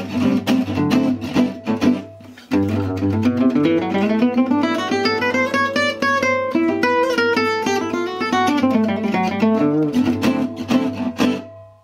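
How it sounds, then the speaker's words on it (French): An acoustic guitar played through a Prodipe Natural 6 acoustic amplifier rings out in a clear, close jazz manouche passage of strummed chords and melodic runs, with sustained notes, no voices. "Et donc là, on a vraiment le son acoustique de la guitare."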